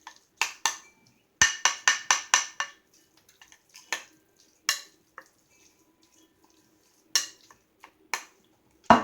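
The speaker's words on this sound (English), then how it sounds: "I'm still continuing stirring my mayonnaise with the tuna" Mayonnaise and tuna being stirred in a bowl, heard as sharp clinks and scrapes of a utensil against the dish in quick bursts with pauses between, close by and fairly loud, with no talking.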